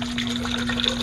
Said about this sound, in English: first thing I'm going to do is I'm going to add some water in here.